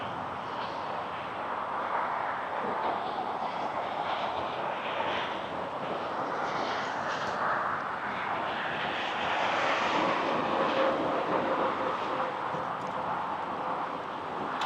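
Bermuda Air airplane at Toronto Pearson airport, its engines roaring steadily and fairly loud throughout, swelling slightly toward the middle amid broadband wind-like rumble, with no talking.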